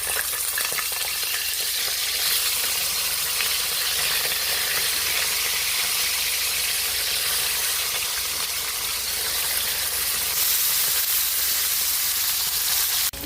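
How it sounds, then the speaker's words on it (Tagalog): Galunggong fish frying in a pan, a steady, close, dense sizzle and crackle of hot oil that holds at an even loudness throughout, with no voices. "Prito na natin yung ating isdang galunggong."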